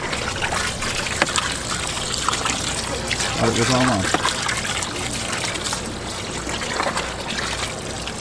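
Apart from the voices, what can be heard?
water running while purging crawfish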